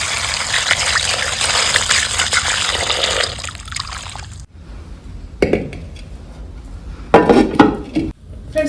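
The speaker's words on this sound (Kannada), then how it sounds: "ಈಗ ನುಗ್ಗೆ ಸೊಪ್ಪನ್ನು ಸೋಸಿದ್ದಾಯಿತು. ಈಗ ಇದನ್ನು ನೀಟಾಗಿ ಒಂದ್ಸಲಿ ಚೆನ್ನಾಗಿ ತೊಳ್ಕೊಳ್ಳೋಣ." Drumstick leaves being washed by hand in a vessel of water: steady sloshing and trickling that falls quiet midway, then returns with louder splashing bursts and a clink of a pot.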